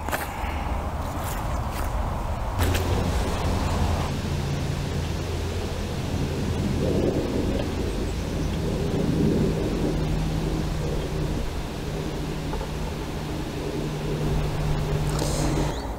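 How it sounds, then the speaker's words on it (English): Heavy rain pours steadily on an allotment while thunder rumbles low and broad throughout, a continuous loud downpour with no voices. "it's just started to bucket down with rain"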